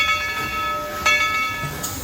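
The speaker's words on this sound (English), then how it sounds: "here comes the train" A train passing by close at hand, a rolling mechanical rumble with sustained tonal ringing and a brief louder burst midway.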